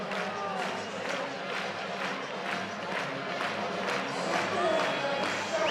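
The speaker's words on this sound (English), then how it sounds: "To the delight of the full capacity crowd here in Plainsman Park." A full-capacity baseball crowd cheers and roars at Plainsman Park during a Banana Ball game against Auburn, a dense sustained wash of voices with rhythmic claps and shouts, loud and continuous throughout.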